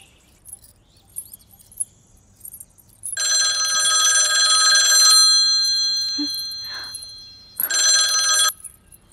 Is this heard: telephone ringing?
yes